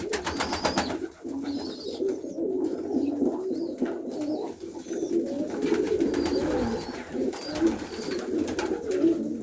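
Domestic pigeons coo in a loft, repeated soft throaty calls that rise and fall close by over a constant low background murmur, with no talking.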